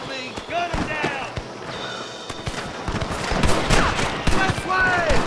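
Rapid bursts of gunfire from a Western shootout in the video game Red Dead Redemption, with sharp repeated shots over several seconds alongside voices.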